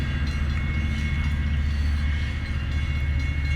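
A short train rolling past close by at a road crossing, a loud low rumble with steady rhythmic rail clatter throughout, no voices heard.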